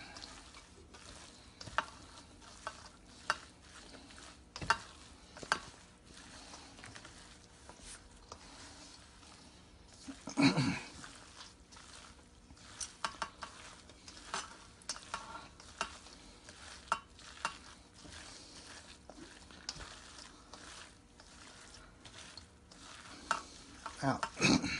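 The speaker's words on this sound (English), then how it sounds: "Mix it all together." Cauliflower pizza base mixture is mixed by hand in a bowl, with soft irregular squelching and scraping taps spread across a quiet background and no talking.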